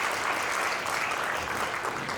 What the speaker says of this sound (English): Yeah, that definitely deserves some applause.